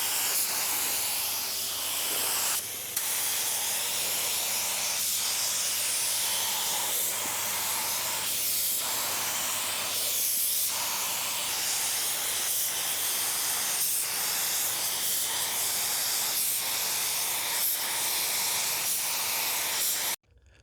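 Spray gun applying Finish One FC740 high-solids clear coat with slow activator onto a car bumper, a steady close broadband hiss of air and atomized paint running continuously with brief pauses in the spray.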